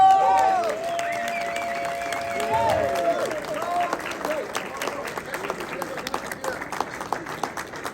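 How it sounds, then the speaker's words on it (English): An audience at a ceremony presenting the Muhammad Ali belt to Floyd Mayweather breaks into applause after a short bit of talking, the clapping swelling into a sustained, crackling wash with scattered sharp claps. "So I kindly ask everyone to give a big round of applause to Floyd Mayweather."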